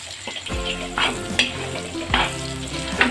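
Carrots and garlic fry in a pan for chicken Manchurian, a steady close sizzle broken by several loud scraping stirs with no talking.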